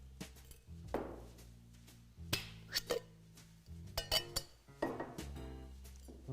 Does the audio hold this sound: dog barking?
no